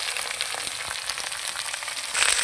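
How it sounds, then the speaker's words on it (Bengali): Elephant foot yam and potatoes fry in oil in a pan with a steady, close sizzle that grows a little louder at the end, with no voices. "আলু সহকারে ওলকচুটাকে কিছুক্ষণ ভেজে নিলাম।"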